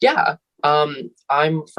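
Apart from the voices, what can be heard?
No everyday noise stands out behind the speech.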